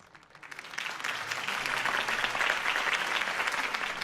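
Crowd applause in the video game Batman: The Telltale Series swells quickly from quiet to a full, steady clapping that continues to the end.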